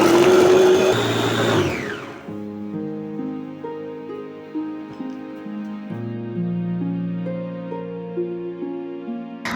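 Electric blender whirring loudly as it grinds tofu recipe ingredients with a little water or oil, a steady motor roar that cuts out after about two seconds, leaving background music.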